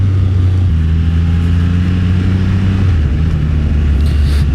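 A Triumph Rocket 3R motorcycle engine on its stock exhaust, loud and close with a steady droning note that shifts pitch as it revs and eases off, with no talking.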